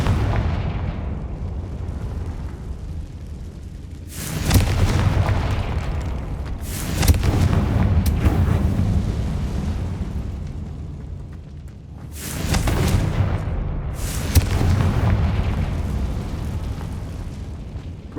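Confringo blasting spells explode in the Hogwarts Legacy video game: three loud, booming bursts a few seconds apart, each rolling into a rumbling, crackling tail over a steady background.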